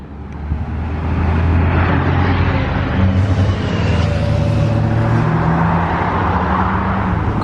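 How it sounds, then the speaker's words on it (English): Classic British lorries roll past on the Cheshire Run 2021, a loud, steady rumble of heavy diesel engines that builds within the first second and holds close and continuous, with no talking. "More classic British trucks on their way."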